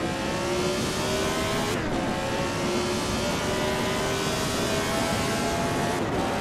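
A Lotus 72 race car engine in the video game Assetto Corsa revs hard and continuously, its pitch climbing through gear changes with brief dips, loud and up close throughout.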